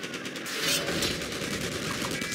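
Machine gun fire in the Company of Heroes video game, a continuous rattling burst of rapid shots, dense and steady throughout, with distant battle noise behind it.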